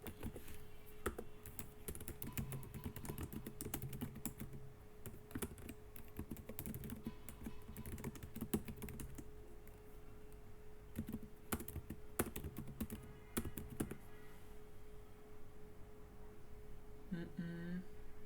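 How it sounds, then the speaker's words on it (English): Typing on a computer keyboard, fast irregular key clicks in dense bursts with brief pauses, close and fairly quiet over a low steady hum. "Let me just type it."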